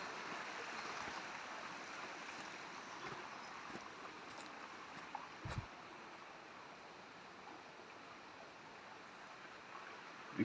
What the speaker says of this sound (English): All the smaller creeks flowing.